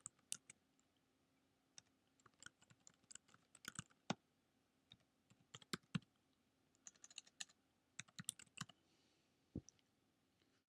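Quiet, irregular bursts of keystrokes clatter on a computer keyboard in a hushed room, sharp clicks coming in uneven clusters separated by short pauses.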